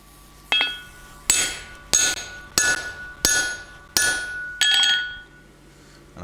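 Hammer striking a hot chisel on an anvil during blacksmith forging, seven sharp ringing metallic blows at a steady rhythm, each clang decaying briefly before the next, close and loud with no talk.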